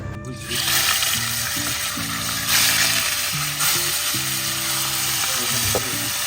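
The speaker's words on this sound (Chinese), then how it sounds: "龙利鱼干煎就很好吃" Sole fish pan-frying dry in a hot pan, a strong steady close sizzle and crackle, with tonal hums and beeps running underneath.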